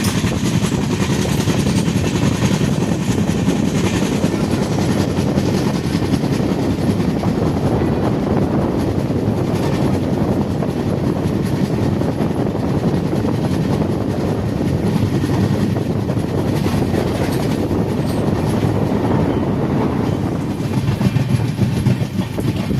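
Karnataka Express 12628 running toward Bina Junction, a steady loud broadband rumble of rolling train wagons with faint clickety-clack, continuous throughout with no voices.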